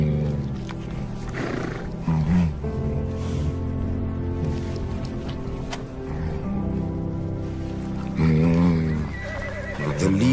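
Horses and wild animals around a newborn foal in the southern winter, with mares gathered close; whinnies and neighs rise over a steady dense layer of animal sound, with louder calls near the start and end.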